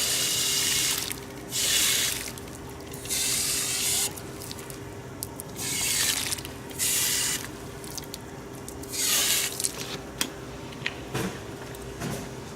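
Water sprays in bursts onto the soil around a freshly transplanted young fig tree, several separate pours with short pauses between them, fairly close and moderately loud, with no voices.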